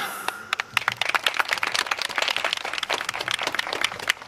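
An audience at the Asaka city Saikasai festival claps along in a steady rhythm for a yosakoi-style dance team's performance, dense rapid handclaps filling the whole stretch at close range.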